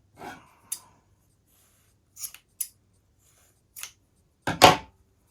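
Big sharp sewing scissors snip through super-chunky yarn while tassels are made, a handful of separate crisp cuts spaced out with quiet gaps between, the last one loudest and closest.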